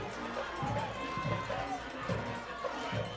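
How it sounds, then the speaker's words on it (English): Loud crowds at a high school football game between Connally Cadets and Lorena: a steady, dense wash of cheering and crowd noise with rhythmic swells, continuous throughout the short stretch. "And both crowds are loud here."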